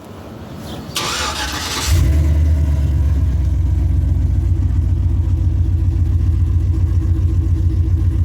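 A truck with a chambered glass pack muffler cranks over after a brief clatter, then settles into a loud, deep, steady exhaust rumble heard up close with no talking.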